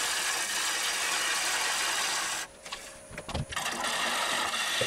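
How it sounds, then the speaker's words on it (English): A bowl gouge cutting wood on a lathe while turning a live-edge crotch bowl, a steady broadband whir that dips briefly as the cut pauses, then resumes with rough chattering scrapes. "I've got the bowl gouge here facing the other direction. I'm nibbling away at the middle."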